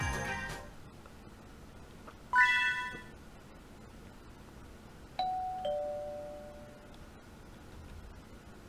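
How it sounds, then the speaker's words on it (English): A doorbell rings in the video game Storm Lover Kai, a clear chime near the start and then another ding a few seconds later, moderately loud over a soft background hum. "Stop ringing the bell already."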